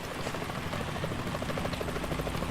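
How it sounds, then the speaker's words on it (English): A helicopter in Metal Gear Solid 2 chops steadily with a rapid rotor beat and a low engine drone, loud and close throughout with no talking. "Is that a chopper I just heard?"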